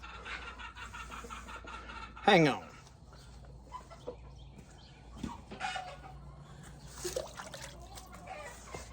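A chicken gives a sharp, descending squawk up close, followed by scattered softer clucks and rustling, with a person speaking briefly in between.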